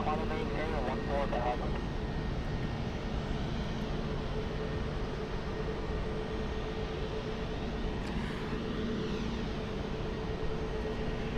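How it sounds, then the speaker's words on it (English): Aer Lingus airliner taxiing toward runway 6 right at Cleveland for departure, a steady broadband jet engine rumble and whine holding level throughout, with a voice talking over it. "We're going to stick with Aer Lingus for the next couple of minutes, though, as they begin their taxi to 6 right for departure"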